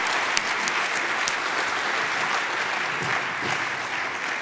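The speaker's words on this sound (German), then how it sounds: "Applaus." Steady applause from a conference audience at a university future-skills finalist presentation, dense and even throughout with no voices over it.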